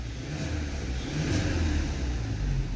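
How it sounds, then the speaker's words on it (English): Kia engine with a cylinder 4 misfire revved up in short pushes, a low mid-pitched engine drone that swells and eases, fairly quiet and close with no talking. "I'm revving it right now."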